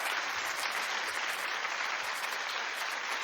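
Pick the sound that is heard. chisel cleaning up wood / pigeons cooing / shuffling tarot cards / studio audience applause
studio audience applause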